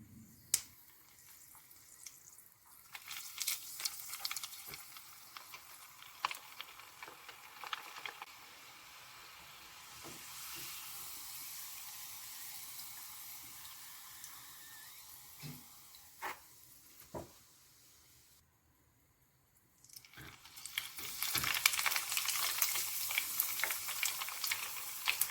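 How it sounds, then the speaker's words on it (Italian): Indonesian onde-onde sweet rice balls fry in hot oil with a quiet, steady sizzle and scattered sharp crackles. The hiss swells louder and brighter toward the end. "Ora li possiamo friggere."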